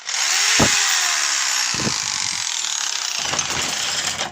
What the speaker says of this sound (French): Parce que la perceuse à percussion, ça fait...